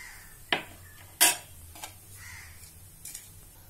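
A pot set down on a stove before oil is poured in, heard as two sharp metallic clanks followed by lighter taps and scrapes of cookware, close and clear over a quiet background, with no talking.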